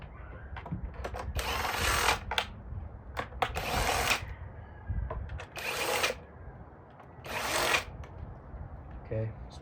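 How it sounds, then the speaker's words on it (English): Bolts on the fuel injector area of a 2014 Dodge Charger SE 3.6 being loosened with a deep socket, giving bursts of ratcheting and rattling clatter, close and fairly loud, separated by quieter handling noise. "we're going to remove the ones that require the deep socket"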